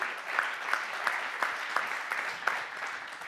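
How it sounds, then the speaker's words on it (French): Audience at the 2016 Blue Ocean Awards ceremony breaks into steady, dense applause, a continuous wash of many hands clapping with a few sharper claps standing out, sustained for the whole stretch at moderate volume. "Venez, on peut l'applaudir."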